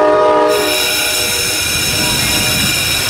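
A distant locomotive horn blares loud and steady for several seconds, a sustained multi-tone blast with no voices.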